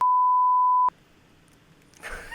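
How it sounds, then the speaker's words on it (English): A steady pure censor beep tone holds for just under a second, then cuts off abruptly, leaving near silence before faint speech begins. "I'm gonna have to beep out all of these."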